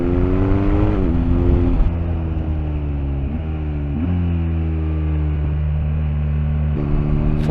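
A BMW R1250R motorcycle with its OEM exhaust accelerates under throttle, engine pitch rising and falling through several gear shifts, loud and close, with steady wind rush and no speech.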